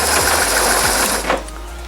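A motorcycle engine idles with a loud, busy mechanical clatter from worn transmission input shaft splines as the clutch is let out, then the noise drops away near the end.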